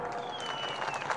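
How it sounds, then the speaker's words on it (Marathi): A crowd at a public political speech in Maharashtra breaks into dense, continuous applause, steady and loud throughout, with a thin whistle-like tone running above the clapping. "ए वाजवारे टाळ्या"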